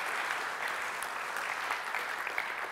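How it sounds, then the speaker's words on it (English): An audience claps for a motivational speaker at a talk, a steady, continuous patter of many hands that holds evenly throughout without voices over it. "Give her a round of applause."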